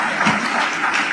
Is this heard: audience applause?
yes